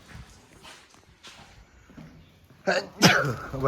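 A sharp sneeze bursts out near the end, loud and close, after quieter shuffling and faint movement noises.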